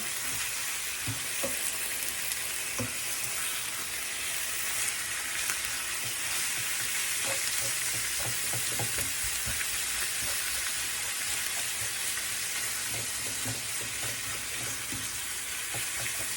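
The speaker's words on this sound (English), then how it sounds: "Once you have all the ground beef nice and spread apart, let's cook it until it turns brown" Ground beef and onions frying in a pan, a steady broadband sizzle that holds throughout, close and continuous, with occasional small pops and the light scrape of stirring.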